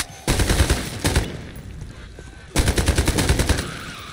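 Kalashnikov rifle firing in a zombie game: a long rapid automatic burst, a brief pause with a few shots, then another sustained burst, loud and close.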